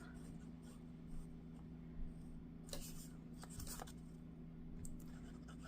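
Paper being trimmed for a junk journal pocket: a few faint, short snips and rustles, quiet and close, with soft steady room noise between them.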